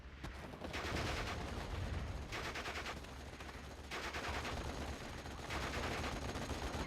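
Dense, continuous machine gun fire from the Steel Division: Normandy 44 war game fills the mix, with sustained rattling bursts loud and unbroken across the whole stretch.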